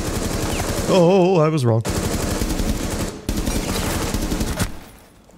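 Rapid automatic gunfire in a video game bursts out loud and close in sustained strings, broken by brief pauses, with a short spoken line and a rising musical tone over it.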